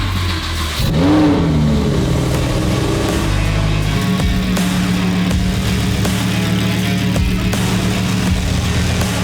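Street Evo car engine revving hard as it pulls away, a loud, sustained mid-pitched growl with rising and falling throttle swells, close by and continuous throughout.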